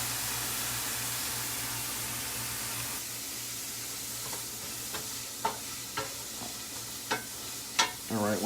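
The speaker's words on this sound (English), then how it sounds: "Let the onion kind of cook down." Chopped onions with fallen-in jalapeños cook down in a pan while making chicken enchiladas, a steady soft frying hiss broken by a few sharp stirring scrapes near the end.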